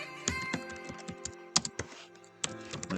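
Fingers tap on a computer keyboard while a document is typed out in Microsoft Word. The keystrokes come quickly and irregularly, close up and crisp, with a few louder thumps mixed in and no talking.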